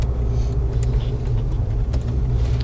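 A 1985 GMC Jimmy truck engine runs with a deep, steady low rumble, close and continuous, with faint incidental clicks over it and no talking.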